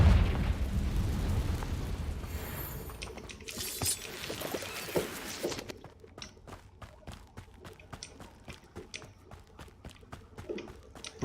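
A Confringo fire spell blasting in Hogwarts Legacy, a loud rumbling burst with crackling debris at the start that fades into a quieter stretch of scattered clicks and pops.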